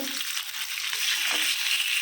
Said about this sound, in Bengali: মাছগুলো ভাজা হয়ে গেছে এই এখন মাছগুলো তুলে নিচ্ছি